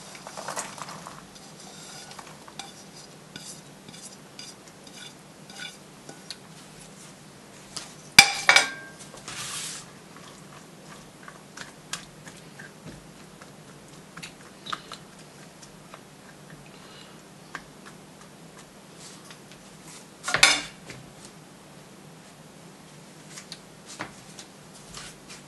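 Chopped vegetables tipped into a hot pan for green chili romaine wraps, with faint sizzling and ticking throughout and louder clatters of utensils against the pan near the start and again later.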